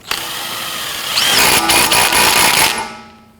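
A power tool whirs in a short, loud burst of about a second and a half while tightening the front axle nut on a 1992–1996 Toyota Camry, then winds down, following a single sharp click.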